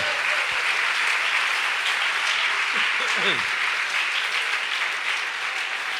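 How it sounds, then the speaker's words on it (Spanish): A church congregation gives loud, sustained applause for the Lord, a dense wash of clapping filling the room throughout, with faint voices underneath. "Dale ese aplauso fuerte al Señor ahora."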